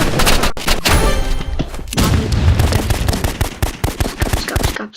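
Rapid bursts of firecracker-like explosions from the Roblox game Rivals crackle loudly and densely for the full five seconds, with dense popping throughout.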